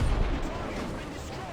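In War Thunder, an M4A1 76 Sherman tank gun fires once with a loud, close blast at the very start, followed by a rumbling, fading boom over a noisy background.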